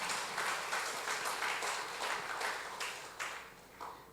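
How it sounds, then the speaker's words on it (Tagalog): Applause from a congregation at a Sunday church service: a steady wash of many hands clapping, faint and distant, fading slightly toward the end with no voices over it. "kung papalakpak tayo, pumalakpak tayo ng totoo"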